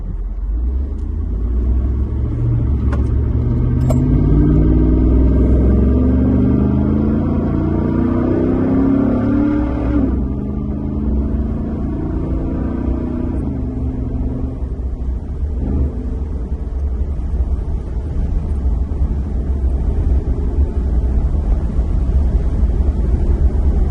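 A 2012 Ford Raptor with a Corsa Extreme exhaust rumbles from inside the truck with the rear windows down, its deep exhaust note rising through several revs and easing off, with no talking.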